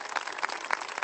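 Congregation at a Catholic Mass in Noisy-le-Grand applauding three newly baptised Christians, a brief, moderately quiet patter of many hands with a few sharper individual claps standing out.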